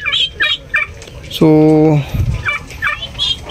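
A local turkey gives one loud, close, warbling gobble lasting about half a second, set among a man's Filipino speech before and after.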